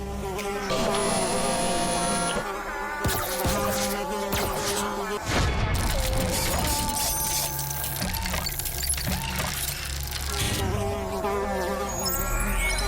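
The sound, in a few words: buzzing fly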